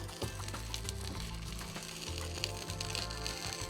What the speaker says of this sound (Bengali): বেগুন ভেজে নিতে হবে, হ্যাঁ, আর আলুটা সাথে ভেজে ফেলবো আমি।